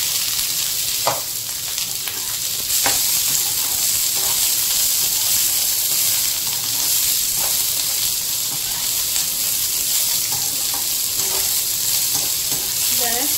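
Ridge gourd roasts in a pan over good heat, with a loud, continuous sizzling hiss and occasional stirring scrapes, steady throughout with no pauses.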